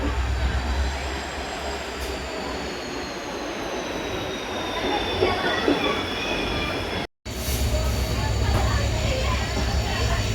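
The Karaikudi–Mayiladuthurai passenger train runs at Aranthangi station with a steady, loud rumble and high squealing from the wheels. Crowd voices blend into the continuous railway noise.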